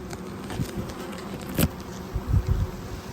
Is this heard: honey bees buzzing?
yes